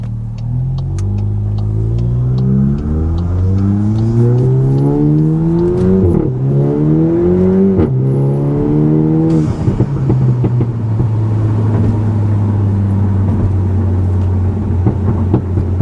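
A tuned VW MK8 GTI with a Unitronic intercooler accelerating hard, the engine note climbing through several gear pulls with brief dips at each shift, then settling into a steady loud drone, heard from inside the car.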